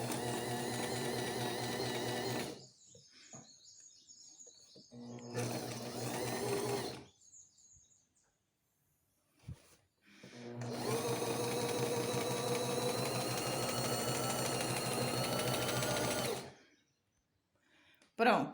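A sewing machine stitches a curved seam in fabric, running in three loud, close bursts of steady rapid motor hum separated by silent pauses.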